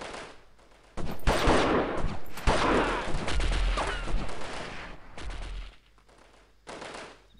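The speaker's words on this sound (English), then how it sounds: "Where are these bullets coming from?" Bursts of gunfire in the Delta Force video game crackle loud and close, with dense automatic fire coming in clusters separated by short quiet gaps.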